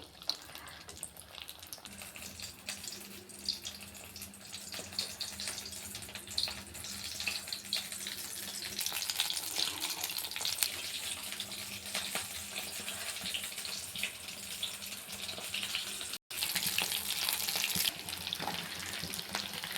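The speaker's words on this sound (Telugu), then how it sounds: "ఇప్పుడు నూనెలో ఫ్రై చేసుకుందాం" A snack fries in hot oil, a faint, steady bubbling sizzle with a soft hiss that runs for about twenty seconds, with one brief dropout and no speech.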